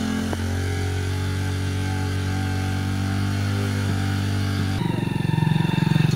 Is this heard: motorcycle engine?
yes